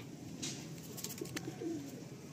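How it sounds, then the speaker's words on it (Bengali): Pigeons in a loft coo in low, soft bursts nearby, a gentle throaty warble over a quiet background. "এটা নর পায়রা"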